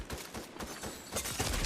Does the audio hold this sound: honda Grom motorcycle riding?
no